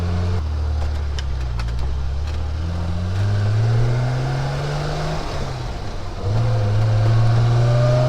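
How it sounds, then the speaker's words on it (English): A 1971 Triumph Vitesse Mark II with a 2-litre straight-six and twin carburettors revs close by, its engine note climbing, dipping briefly and rising again in a steady, loud drone with no talk. "1971 Triumph Vitesse Mark II, and she of course has a straight 6 2-litre engine with twin carburettors."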